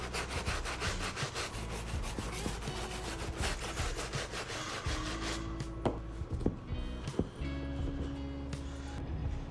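A sneaker is wiped clean with Jason Markk cleaner, giving close, rhythmic rubbing strokes that fade into softer scrubbing and small knocks.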